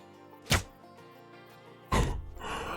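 Bow shot striking a bull in the hunting game Call of the Wild: a sharp thunk as the arrow flies, then a heavier, longer thwacking impact about a second and a half later, loud against a quiet backdrop.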